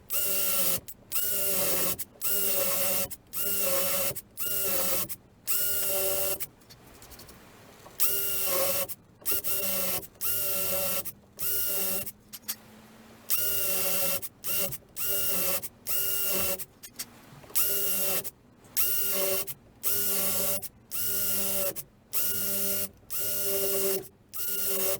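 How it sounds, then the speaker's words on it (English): An electric drill with a paddle bit boring into wood for a guitar neck pocket runs in repeated short bursts, each a loud, close whirring grind about a second long, broken by brief pauses over the whole stretch. "a paddle bit on a drill and start to drill some of this out"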